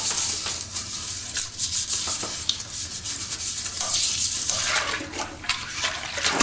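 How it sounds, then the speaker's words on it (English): A toilet brush scrubbing inside a toilet bowl during housekeeping cleaning, with brisk, continuous wet rubbing and swishing of bristles against porcelain and water, close and loud, with no speech. "It's important to get inside. Scrub all of that up underneath."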